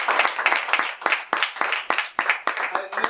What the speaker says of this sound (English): A big round of applause for Cindy